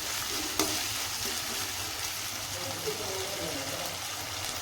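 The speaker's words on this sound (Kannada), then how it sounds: "ಇದರಲ್ಲೇ ಸ್ವಲ್ಪ ಫ್ರೈ ಆಗಲಿ." Potatoes and other ingredients for aloo kurma sizzle and fry steadily in a pan, a constant close crackling hiss with faint stirring, and no voice over it.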